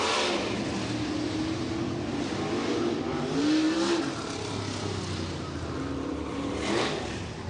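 World of Outlaws sprint cars circle a dirt track at River Cities Speedway on slow wheel-packing laps under caution, a steady engine drone with gentle rises in revs as cars pass, with no talk.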